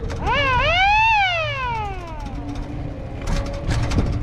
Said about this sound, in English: Hit the siren for oncoming traffic.